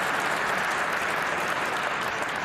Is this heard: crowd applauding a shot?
yes